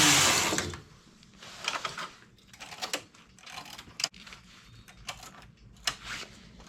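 A knitting machine knits a square sailor collar 120 stitches wide with three strands of industrial yarn at tension setting 7, giving rapid clattering carriage passes with rhythmic mechanical clicks and swishes, close and fairly loud, without talk.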